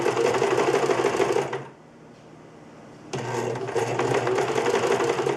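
Sewing machine running a straight stitch through bag fabric, a fast steady mechanical whir heard close and loud, pausing briefly in the middle before starting again.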